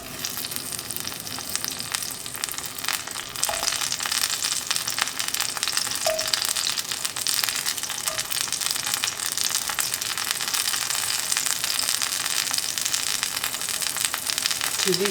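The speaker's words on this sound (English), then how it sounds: "I'm going to first start off by sauteing the tomatoes." Tomatoes sauté in olive oil in a skillet, giving a loud, even sizzle that holds close and continuous, with a few faint tonal blips and no talking.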